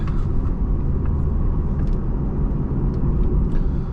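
Engine of a 2012 Lexus IS350 F-Sport drones in a steady low rumble from inside the cabin while driving, a continuous loud hum with no distinct rev rise.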